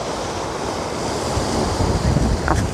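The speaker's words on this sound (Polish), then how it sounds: "te fale piękne" Ocean waves breaking on the rocky volcanic shore of Isla de Lobos, Fuerteventura: a continuous loud surf wash with wind buffeting the microphone, swelling slightly toward the end, no voices.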